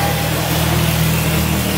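A six-cylinder car engine runs at a steady, loud drone with no change in pitch, heard close up at a car event held inside a gymnasium.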